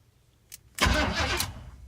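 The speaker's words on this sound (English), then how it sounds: "That now starts the truck." A 1981 Chevrolet K20 truck engine cranks briefly with the key and catches, settling into a loud, rough running roar close by, with no talk.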